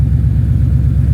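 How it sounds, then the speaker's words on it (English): A Coyote-swapped SN95 Ford Mustang idles in the cold, its V8 giving a loud, steady, low rumbling burble up close with no voices. "And the car's been idling for freaking almost an hour."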